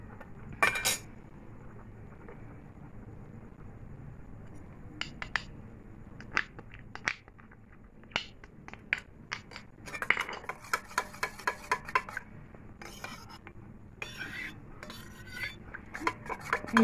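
Yeast, sugar and warm water being mixed in a bowl for butter naan, a spoon clinking and scraping against the sides in quick irregular taps, growing busier toward the end, close and with no talk.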